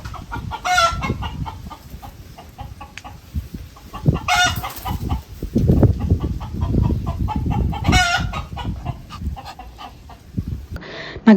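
Chickens cluck steadily on a vegetable farm, close and lively, with a few louder crowing-like calls, while a dog's sounds mix in among the flock.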